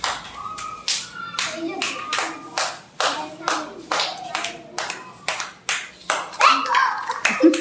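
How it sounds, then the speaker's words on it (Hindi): Children in a school classroom clap their hands together during a cup tower challenge, a quick run of sharp, close claps in uneven bursts with brief pauses between them. "साहिल का बन गया है, ताली बजाओ भाई।"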